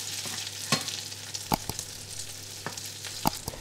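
Broccoli and cauliflower bites fry in oil with a steady close hiss, broken by a handful of sharp clicks and taps as the pieces are turned over in the pan.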